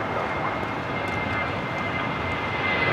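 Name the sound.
Airbus A320 taking off at LAX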